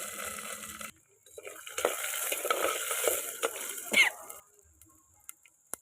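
Green and dried chillies tossed into hot oil for a village-style rasam, a brief sizzle with stirring and utensil scrapes against the pan, close and moderate, trailing off into quiet.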